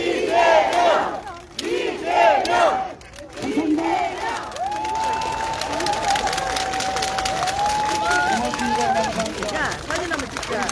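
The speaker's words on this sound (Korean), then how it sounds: "구호 한번 크게 외치고 마무리하겠습니다." A large crowd shouts a campaign slogan at an outdoor Lee Jae-myung presidential rally at Dongmun Market in Jeju, with loud rhythmic bursts of chanting followed by sustained crowd noise and a long whistle-like tone.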